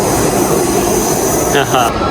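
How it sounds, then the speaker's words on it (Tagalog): Train pulling into Hong Kong Disneyland Resort station on the MTR line, a steady loud rail rumble with wheel noise throughout and a brief squeal near the end, voices faintly mixed in. "Mag-wait na tayo dito at sasakay na tayo sa susunod na tren."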